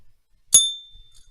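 One bright metallic ding of a small bell, struck once and ringing out with a clear sustained tone that fades over about half a second.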